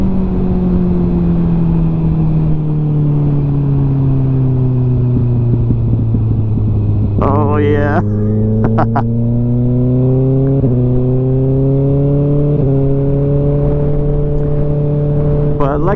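A loud Kawasaki ZX6R sport motorcycle engine, run with its exhaust removed, drones and revs, its pitch sliding down then stepping up in a few bursts, with a brief exclamation partway through.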